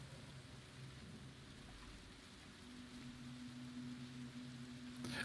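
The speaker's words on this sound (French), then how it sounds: "il y a de l'orage, il y a de la pluie" Video game thunderstorm with steady rain hissing over a low rumble of thunder, faint and continuous, building slightly toward the end.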